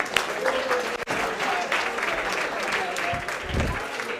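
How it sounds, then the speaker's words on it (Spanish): A lecture audience in an economics class bursts into loud, sustained applause, dense clapping filling the room from start to finish, with a few voices mixed in. "Un aplauso a todos"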